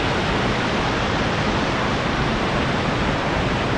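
A waterfall near Pelling pours and rushes in a dense, loud, constant roar of falling and flowing water, close by and unbroken.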